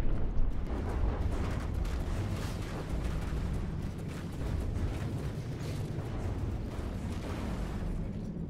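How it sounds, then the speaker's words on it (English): Continuous rumbling explosions of ammo racks blowing up in the video game From the Depths, a dense roar of booms and bursts rolling on without pause. "the ammo racks keep blowing up as soon as they get rebuilt"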